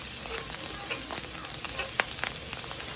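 A tablespoon of garlic sizzles and crackles in a hot pan while being stirred for a seafood mac and cheese, a soft continuous fry with scattered pops and scraping clicks.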